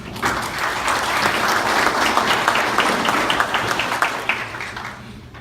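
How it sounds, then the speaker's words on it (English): An indoor audience at a Farm Bureau annual meeting applauds volunteers with sustained, dense clapping that stays loud, then thins into scattered claps near the end. "So let's give these volunteers a round of applause."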